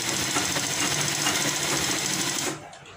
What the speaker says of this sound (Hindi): एक पैर की सिलाई चलाएंगे हम।